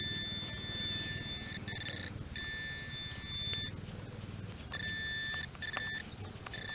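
A metal detector sounds steady electronic beeping tones in on-and-off bursts while pinpointing a target in a school yard dig, close and clear over low outdoor background noise.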